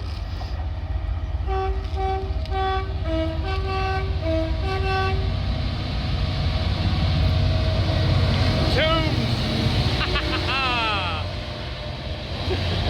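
A train horn toots out a slow, mournful melody resembling a famous film march in sustained notes over a steady rumble of passing container rail cars.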